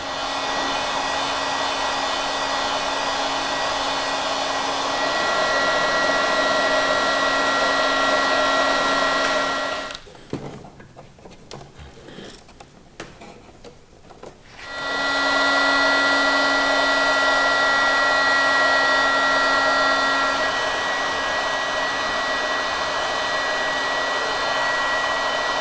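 A heat gun warms a wooden strip for a kayak build, blowing a loud, steady whirring roar that cuts out for a few seconds partway through and then resumes.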